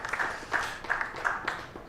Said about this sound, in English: Crane takes the applause of the crowd just below us here in the commentary position